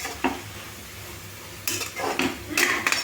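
A spoon scrapes and knocks inside a pot, stirring sautéed vegetables with chili powder for a vegetable biryani. The strokes come in several irregular bursts over a faint background sizzle, quiet and close.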